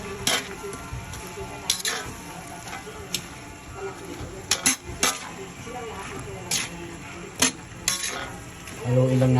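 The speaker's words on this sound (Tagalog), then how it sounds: "Silagay natin repolyo." Cabbage stir-fried in a pan for pancit canton bihon, soft sizzling beneath repeated clinks and scrapes of a utensil against the pan, with a voice talking near the end.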